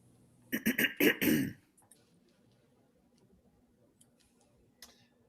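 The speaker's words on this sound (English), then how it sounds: "So you can clear your throat" Someone clears their throat close by in a quick series of rough, choppy bursts, followed by near silence with a couple of faint clicks.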